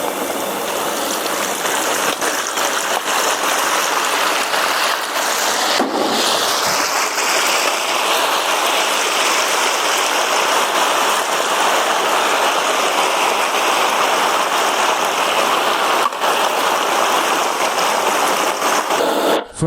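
Cedar chili peppers frying in crisp fried bean paste for a hot pot base, a loud, steady hiss of oil sizzling throughout with a brief stirring disturbance midway, no talking.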